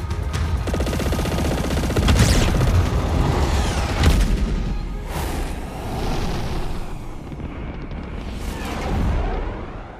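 Weapons fire and booming blasts in a space battle from the video game Chorus, a dense, loud, continuous barrage of explosions and laser shots with heavy impacts swelling around the middle and near the end.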